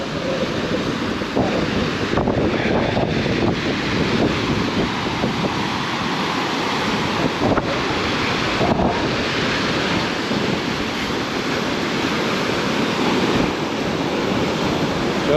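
Rough surf on the Outer Banks during hurricane season, waves breaking steadily on the shore in a loud, continuous wash with gusts of wind buffeting the microphone.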